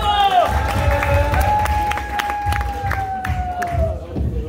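An audience clapping and cheering at a live stage show, a steady roar of applause and whoops close up, with an announcer's voice ringing over the crowd.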